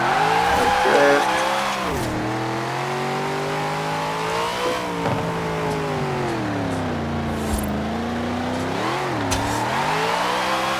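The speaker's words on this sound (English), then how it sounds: "That's a drift." A car drifts in the Forza Horizon 4 racing game, its engine revving and rising and falling in pitch through long slides, with screeching tire squeal throughout and no talking.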